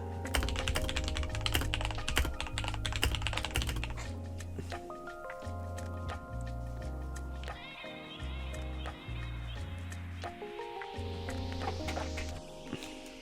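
Fingers tap rapidly on a computer keyboard, a steady stream of clicks under louder tonal music playing throughout.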